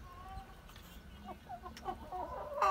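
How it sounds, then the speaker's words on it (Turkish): Village chickens clucking near a poultry seller's pens alongside Brahma and other breeds, a few short clucks and calls rising toward the end over a low background murmur. "Bunlar şey köy tavuğu."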